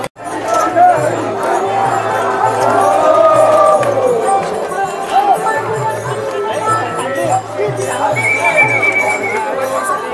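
A large crowd of pilgrims on the Ashadhi Ekadashi wari to Pandharpur fills the air with dense, continuous babble and movement, loud and close, with a rhythmic low pulse from drums or dancing feet.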